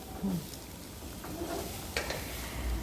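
Tempered Sri Lankan sautéed cabbage stirred in a pan, a continuous close sizzle with a few soft scraping strokes of the spoon, fairly quiet and with no voices.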